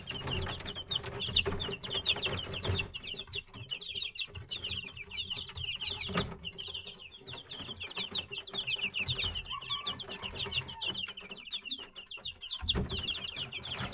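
Chickens on a Turkish village poultry farm cluck and chatter continuously, with many overlapping calls at close to mid distance over a steady background of farmyard noise, and no talking.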